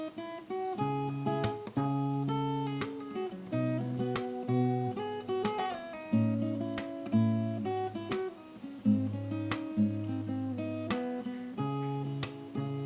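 Closing section of a fingerstyle guitar arrangement of a Hindi song, with plucked melody over sustained bass notes and periodic bright strums, soft and close, played alone without talking.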